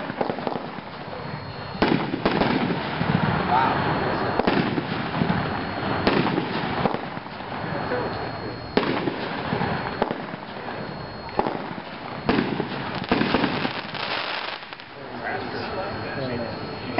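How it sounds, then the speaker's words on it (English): Chaotic Kaboom consumer fireworks by Firehawk erupt in a long barrage of crackling bursts and repeated loud booms, dense and continuous with sharper peaks every couple of seconds, with people's voices mixed in. "that was Chaotic Kaboom by Firehawk"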